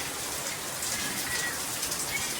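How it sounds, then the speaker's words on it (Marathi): Rain falling steadily in Washim as the wind picks up, a continuous soft hiss of drops without clear pauses, fairly faint and steady throughout the short stretch. "बऱ्यापैकी पाऊस पडत आहे."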